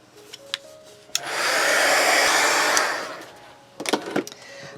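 A hair dryer blows on a magazine image for a junk journal, switching on for about two seconds of steady whooshing roar, then cutting off, with light handling clicks before and after.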